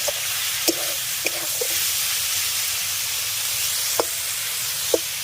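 Banana flower frying in a pan with potato and eggplant, a steady loud sizzle and hiss with a few sharp clicks of stirring scattered through it.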